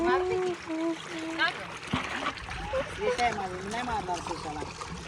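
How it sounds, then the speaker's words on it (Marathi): Clothes being washed in open water in a village, with irregular splashing and sloshing that stays close and fairly loud while voices talk over it almost throughout. "मोकळ्या पाण्यात पटकन कपडे पण धुवून घेते"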